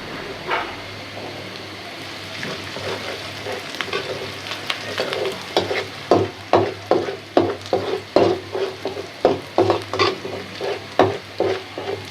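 Spice paste sizzles in a hot pan while a spoon scrapes and stirs in a regular rhythm, the strokes growing louder and sharper toward the end.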